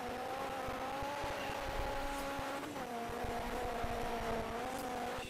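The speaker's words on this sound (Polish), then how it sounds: "Piękny uślizg, delikatny." A rally car slides through a corner during a rallycross race in the DiRT 3 video game at Aspen, engine droning at steady revs with tire noise underneath, heard faintly and alone.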